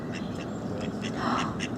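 Several ducks quack in quick repeated bursts during a squabble, the calls fairly close and loud over a steady background hiss.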